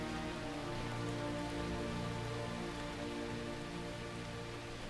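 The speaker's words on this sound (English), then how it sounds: "I like the raindrops on the camera lens." Rain falls steadily as a dense, even hiss, with raindrops striking the camera lens up close, and no voices are heard.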